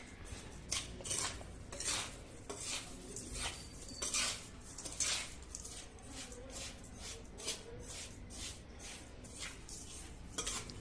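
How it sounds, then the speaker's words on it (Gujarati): Spoon scraping and clinking in a bowl as dry ingredients are mixed with grated coconut for kachu katlu, a Gujarati sweet, steady close scrapes and taps repeating throughout with no speech. "બધી જ વસ્તુને સારી રીતે ડ્રાય જ આપણે મિક્સ કરી લઈશું આ રીતે"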